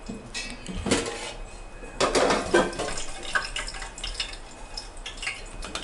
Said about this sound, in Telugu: బాగా మరగబెట్టాక వాష్ చేసుకున్న బియ్యం వేసుకోవాలి